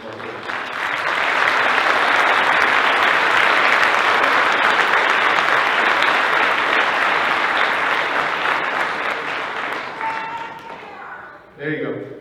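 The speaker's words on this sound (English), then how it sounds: "I want to say a round of applause" Sustained audience applause fills the room at a steady, loud level for about ten seconds, then thins out and fades, with a brief burst of voices and movement at the end.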